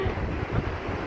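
Strong wind buffets the microphone on a beach at Alassio, Italy, giving a steady, loud, low rumbling roar that holds through the whole short stretch with no clear voices over it.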